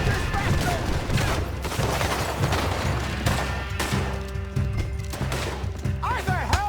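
Rapid gunfire rattles through a Red Dead Redemption 2 shootout, dense bursts of shots under shouting voices, loud and continuous throughout.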